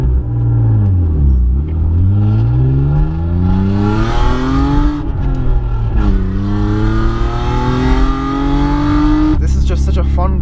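BMW E36 325is coupe with its six-cylinder engine revving loudly and close, the pitch sweeping up and down through repeated climbs and drops, a steady engine roar throughout.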